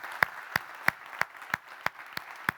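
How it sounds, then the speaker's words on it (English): Sparse, evenly spaced hand claps at a conference session on human nutrition, roughly eight sharp single claps at a steady pace over a quiet room background, no voices. "a big round of applause to you all"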